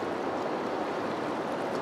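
Water flowing outdoors in nature makes a steady, full rushing wash that holds constant and close throughout, with no voices.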